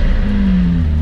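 A McLaren 570S Spider with its top down fires up, giving a loud, deep engine rumble that holds steady and close for about a second.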